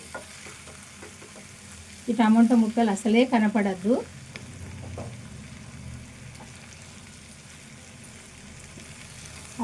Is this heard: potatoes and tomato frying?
yes